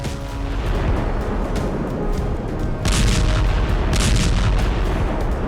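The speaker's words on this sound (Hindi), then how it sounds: "देखिए कैसे आसमान में कई फीट ऊपर से ड्रोन ने बम गिराए और फिर तेज धमाके से इमारत में आग लग गई" Heavy, continuous rumbling blasts with sharp bursts of bombs dropped from a drone striking a building, loud and dense with no pauses and no voices.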